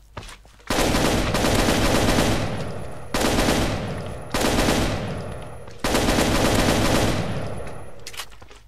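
Heavy automatic gunfire from a Counter-Strike weapons mod in Minecraft rips out in four long, loud bursts, each starting sharply and tailing off slightly, with brief gaps between them and no talking.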